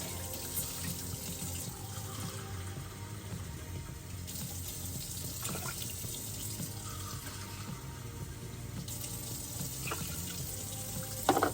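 Water flowing steadily into a measuring cup at an RV kitchen counter, a continuous soft splashing stream held for several seconds with small shifts in tone and no voices.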